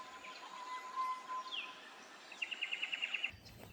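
A drongo mimicking another bird's call, somewhat like a sacred kingfisher: a thin whistled note and a brief rising call, then a rapid series of seven or eight sharp repeated chirps, faint and outdoors near Lake Samsonvale.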